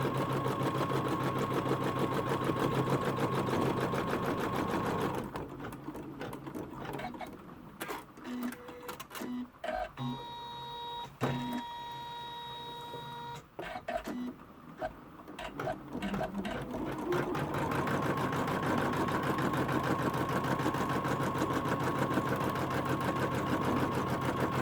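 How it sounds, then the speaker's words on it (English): An embroidery machine stitches a notebook cover design in the hoop, its steady mechanical whir running for about ten seconds in the middle, with a softer room hum before and after and no talk. "we stitch colorway 7 to complete the design"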